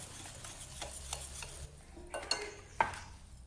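Chocolate cake batter is stirred in a bowl, with a utensil giving soft repeated scrapes and taps against the sides, close and quiet, ending in a sharper clink.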